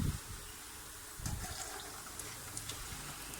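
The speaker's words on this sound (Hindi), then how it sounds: "इसमें अब हम फ्राई करेंगे कचौरी।" Kachori frying in hot oil, a dense continuous sizzle and bubbling hiss, loud and close, with a few thumps near the start as the pieces go in.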